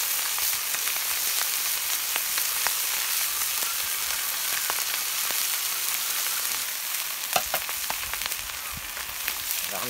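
Raw prawns frying on a teflon sheet for a seafood stew, a dense steady sizzle with scattered pops and crackles, close and continuous with no talk.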